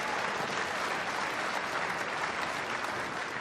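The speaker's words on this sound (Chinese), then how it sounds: "朋友们，不要忘记您的掌声，伴随二位新人的脚步" A wedding audience claps steadily for the bride and groom, dense continuous applause filling the room without a break.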